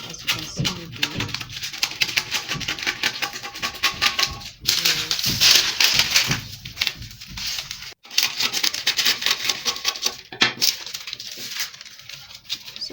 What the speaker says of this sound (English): I'm just cutting out the parts not needed